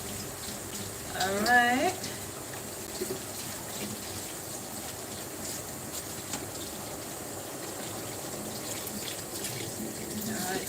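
Tap water runs steadily into a kitchen sink while baking dishes are washed up after carrot cakes go into the oven, a continuous gentle stream with a brief spoken word near the start.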